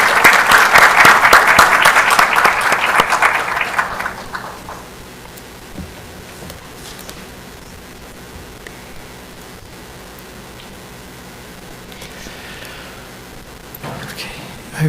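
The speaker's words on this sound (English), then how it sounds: "let's offer Prof. Salawu a round of applause" After a public presentation by Prof. Salawu, an audience applauds in a dense round for about four seconds that then dies away, leaving quiet room tone with faint shuffling and brief voices.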